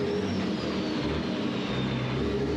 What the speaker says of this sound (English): You can hear the fantastic noise these engines make.